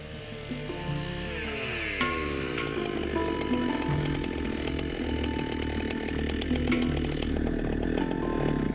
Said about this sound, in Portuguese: E Mutega usa a motosserra para cortar a outra presa.